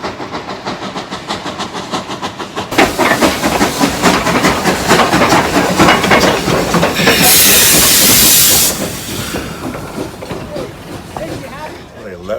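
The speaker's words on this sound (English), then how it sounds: "the way to do it is with a steam locomotive." A steam locomotive in a wilderness area gives loud, rhythmic chuffing, joined midway by a sustained, powerful blast of venting steam that then drops back to the working beat.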